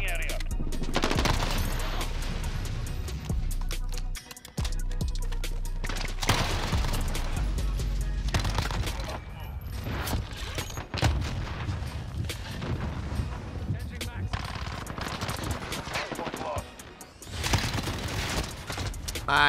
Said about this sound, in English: Seeing how slow that the Uzi was because it's always been such a fast firing gun.